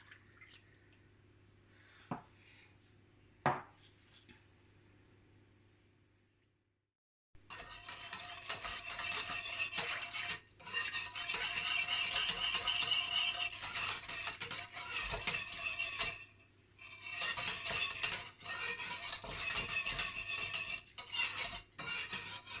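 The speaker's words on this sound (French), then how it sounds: "je vais faire diluer la levure boulangère avec le lait et le sucre" A spoon stirs baker's yeast into milk and sugar in a bowl for brioche, a few light clinks at first, then a quiet pause followed by long stretches of steady scraping and swirling against the bowl.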